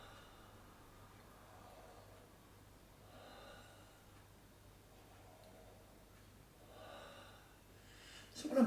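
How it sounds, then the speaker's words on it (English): Deep, slow breaths in a quiet room during a breathing practice, three soft airy swells spaced a few seconds apart, close and gentle with no talking. "I'm breathing quite deep and slow."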